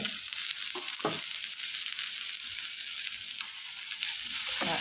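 Chopped small tomato fries with onions in a pan, giving a continuous bright sizzle with occasional stirring knocks and spatters throughout, without any speech.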